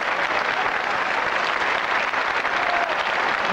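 Steady, dense applause from a TV studio audience on a French game show, a continuous wash of clapping at even loudness throughout.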